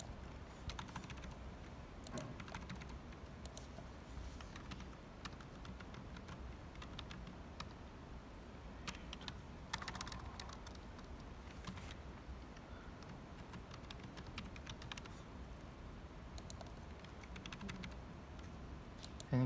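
Someone types on a computer keyboard while filling in a sign-up form, with scattered soft key clicks in irregular bursts over a steady low hum and faint traffic noise, quiet and close, with no talking.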